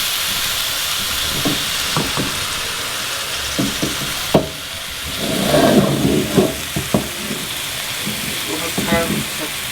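Pork tenderloin searing in oil in a pan, a steady bright sizzle and hiss that swells louder midway as the meat is turned, with occasional clacks of a utensil and a voice talking intermittently.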